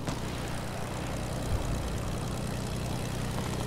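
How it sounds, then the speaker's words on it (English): Propeller plane engine in Fortnite, a steady low droning hum with a constant rumble running through the whole stretch, loud and close with no talk over it. "It's your friendly neighborhood plane."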